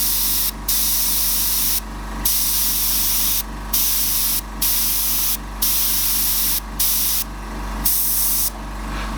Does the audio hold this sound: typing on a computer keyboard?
no